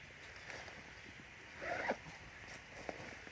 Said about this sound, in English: Gonna unzip it.